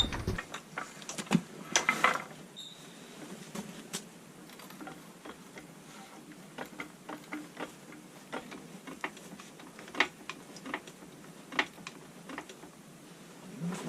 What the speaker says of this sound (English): let's get the back end jacked up and get that tire off